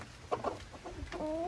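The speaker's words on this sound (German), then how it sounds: "Und hier haben eben Freunde Hühner." Chickens cluck in a henhouse, a few soft, close clucks and short calls over quiet background noise.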